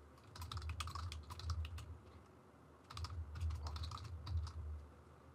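Quick bursts of computer keyboard typing enter a new customer's details, with faint close key clicks in two runs separated by a short pause, over a soft background hum.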